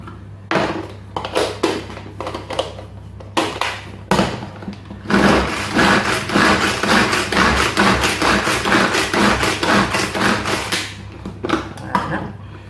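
Shallots being chopped with a knife on a board, first a few separate thuds, then a fast, busy run of close, loud chopping knocks that continues to the end.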